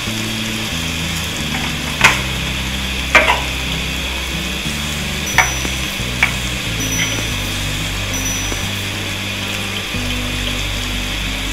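Cumin seeds, two spoonfuls, hit hot oil for a mutton karahi, giving a steady frying sizzle with a few sharp clinks of a utensil against the pan; no one speaks.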